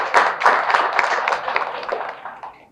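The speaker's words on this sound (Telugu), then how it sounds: "Give him big claps." Audience clapping at a Telugu music world tour press meet, a dense burst of hand claps with sharp individual slaps near the start that gradually thins and fades over a few seconds.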